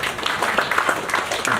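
Audience applause at a maritime industry stakeholder gathering, a brief burst of many hands clapping in a dense, even patter, moderately loud and heard alone.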